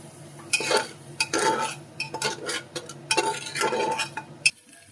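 A spoon scrapes and knocks around a pot, stirring baby dalia khichuri ingredients in short, irregular bursts of clinks and scrapes, close and fairly quiet.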